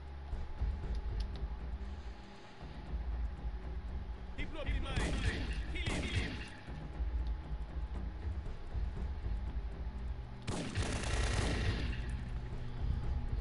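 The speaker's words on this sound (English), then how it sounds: "I'm just gonna use the shotgun down here" Shotgun blasts in the Syphon Filter 3 video game, two sharp bursts close together followed by a third a few seconds later, over a steady low game ambience with talk.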